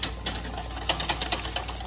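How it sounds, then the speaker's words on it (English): A whisk beats vigorously through pastry cream in a pot, producing quick irregular metallic taps and scrapes against the sides, fairly close and clear with no talking. "I'm going to start to very vigorously whisk my pastry cream"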